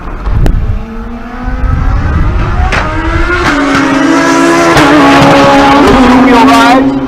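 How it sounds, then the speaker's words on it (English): Turbo Kawasaki motorcycles at a drag race in Pueblo, Colorado: engines rev loud and near, then a long rising acceleration roar with shifts, while a voice speaks over it. "So that turbo Kawasaki in the right lane, that's Dustin Moody."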